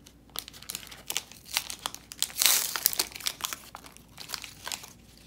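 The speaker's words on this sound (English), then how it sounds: "So first, unwrap the syringe." Plastic-and-paper packaging of a medical syringe is torn open and unwrapped, giving close, crisp crinkling and crackling with a brief louder tearing burst in the middle.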